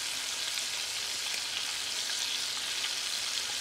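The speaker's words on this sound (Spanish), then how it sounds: "ahí se van friendo" Pieces of chicken fry in hot oil in a pan for a sweet-and-sour dish, giving a steady, even sizzle throughout with no voices.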